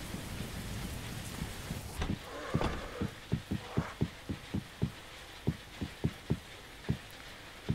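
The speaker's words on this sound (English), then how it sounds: "Now it's starting to rain." Rain beginning to fall in the game DayZ, a steady broadband hiss with a regular series of dull thumps pulsing through it.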